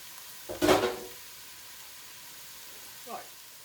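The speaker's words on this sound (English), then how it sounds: "Fry that now to a dark brown." Beef hits a hot pan and flares into a loud, short sizzle, then settles to a faint, steady frying hiss while it browns. A brief clatter, like a stir, comes near the end.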